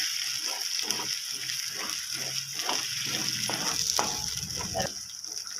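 Chopped tomato fries in hot masala in a pan for Maharashtrian batata vangi curry, a steady soft sizzle with intermittent stirring scrapes, close and fairly quiet, no talking.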